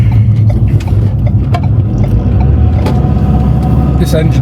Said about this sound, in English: This engine sounds great now.